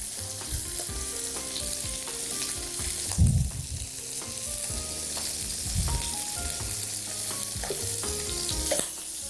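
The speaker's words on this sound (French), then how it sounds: "Je continue à faire dorer mes pilons, mes crevettes" Shrimp and chicken drumsticks browning in a pan for an Algerian dish give a steady, close sizzle, broken by occasional stirring and shifting sounds, with no voices.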